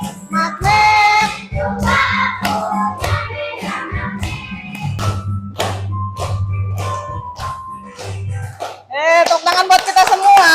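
Hands clap in a series of sharp, loud slaps, mixed with voices and tonal sound, with a brighter cluster of claps near the end.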